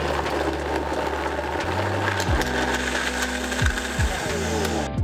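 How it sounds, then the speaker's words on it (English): A blender with its lid snapped on whirs loudly and steadily, blending carrot, pineapple and coconut water into a smoothie; the motor pitch shifts several times as the contents churn. "and then we're just going to blend right up."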